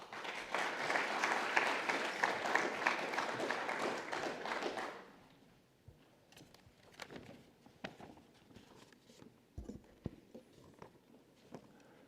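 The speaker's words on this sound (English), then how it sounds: "with a warm round of applause" An audience at a public health prize ceremony in Geneva gives a warm round of applause, dense clapping for about five seconds that then stops abruptly, leaving a quiet room with scattered small taps and shuffles.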